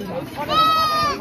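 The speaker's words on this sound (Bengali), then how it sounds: "এবং একটা ছাগলও ডাকছে।" A single goat lets out one drawn-out, wavering bleat, near and fairly loud, at an outdoor spot with market stalls near the fort ruins at Garpanchakot in Purulia.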